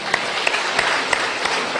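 A live audience at a speaking event claps to welcome a speaker to the stage, dense even applause with a few sharper claps standing out.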